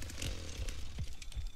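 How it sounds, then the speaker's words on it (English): A chainsaw in the 2023 Texas Chainsaw Massacre video game revs in uneven surging bursts, loud and fairly close, with no voices over it. "hear the chainsaw"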